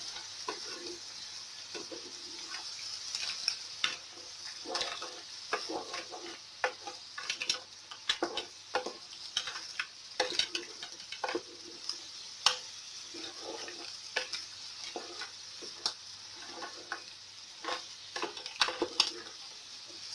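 Spinach, mushroom and broccoli being stirred in a pan for efo riro, with repeated scraping and clinking strokes over a low steady sizzle, fairly close and moderately loud, no voices.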